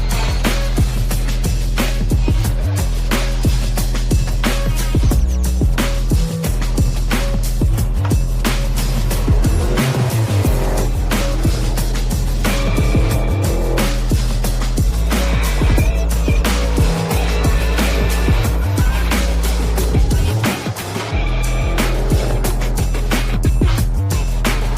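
Drift cars running in pairs at a DMP finals round in Poznań roar loudly and continuously, with engines bouncing off the limiter and tire squeal, close and dense throughout with no talking.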